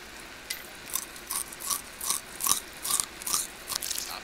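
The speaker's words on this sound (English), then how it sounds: "Chewing in my ear." Close-up chewing and crunching right at the microphone, a series of about eight crisp, evenly spaced bites over a faint background hiss, with no talking.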